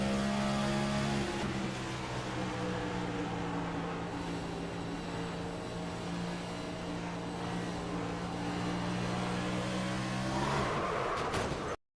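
A stock-car engine in a simulated Dover race replay drones continuously at high revs, its pitch wavering as the throttle changes, with a sharp rise and clatter near the end before it cuts off.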